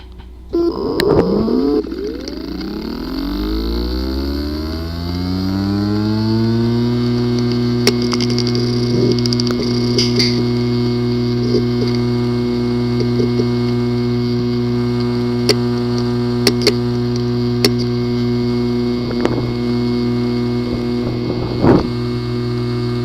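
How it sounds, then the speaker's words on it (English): A damaged hard drive with a physically failed disk assembly spins up, its whine rising in pitch before settling into a loud, steady hum, with sporadic faint clicks and ticks. "The following is the sound from one of the hard drive which experienced disk assembly physically damage."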